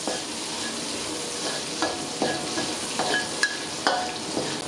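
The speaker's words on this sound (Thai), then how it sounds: "นำหอมใหญ่ลงผัด ให้เปลี่ยนสีเล็กน้อยนะครับ" Onions stir-fried in a pan for chicken cashew stir-fry, a continuous sizzle with rhythmic scraping and tapping of the spatula against the pan, close and steady, without speech.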